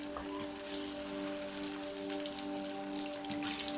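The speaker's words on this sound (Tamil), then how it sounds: "இப்போ இதை எண்ணெயில் போட்டு பொறிச்சு எடுத்துக்க போகிறோம்." Chicken 65 pieces frying in hot oil, a steady, continuous close sizzle and crackle with a faint electrical hum underneath, no talking.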